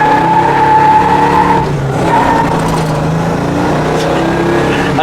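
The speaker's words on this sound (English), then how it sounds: "We're going to check our brakes out a little better here." A 1965 Chevelle SS with front disc brakes brakes hard, tires squealing loudly in a sustained screech as the engine note drops away, close and with no talk.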